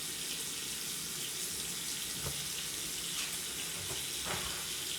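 Hands being washed under running water from a tap, a steady close hiss of flowing water with faint splashes and rubbing, alone without talk.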